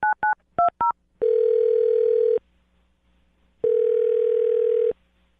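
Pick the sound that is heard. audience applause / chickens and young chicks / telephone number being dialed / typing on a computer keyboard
telephone number being dialed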